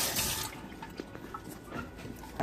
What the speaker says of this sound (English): I'm going to go ahead and just wash my tape off.